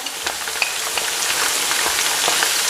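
Small round-sliced vegetable pieces fry in a pan for a Pakistani chicken and mixed vegetable bhaji, giving a loud, dense, continuous sizzle with faint crackles up close.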